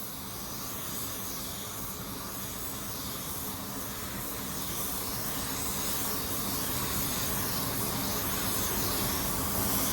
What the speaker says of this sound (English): I'll just give one little dusting on our drop coat over the whole panel